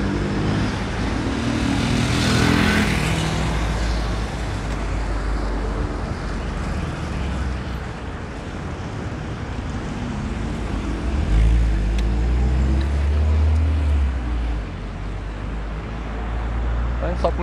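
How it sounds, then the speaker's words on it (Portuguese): Cars move along a street in Boa Viagem, Recife, heard as a continuous broad traffic rumble with a passing vehicle swell early and a deeper engine drone near the end, recorded from a moving vehicle. "Tem uns carros aí atrás."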